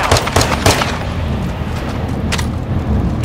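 Video game gunfire crackles in loud, close bursts, several sharp shots early on and another cluster later, over a constant rumbling game background.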